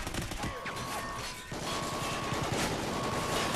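Rapid automatic gunfire from the shooter game Call of Duty: Ghosts, a dense burst of loud bullets with a brief lull near the middle before the shooting resumes steadily and close by.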